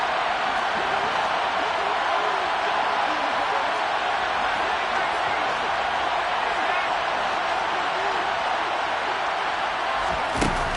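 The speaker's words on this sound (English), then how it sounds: "The crowd getting into it as we come up on a big third down." A football stadium crowd roars steadily and loudly ahead of a big third-down play, a dense, continuous wash of cheering voices that holds throughout without letup.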